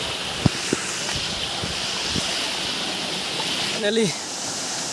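Continuous rushing of a waterfall with constant flowing water, steady and fairly loud, with a few faint clicks and a short voice near the end.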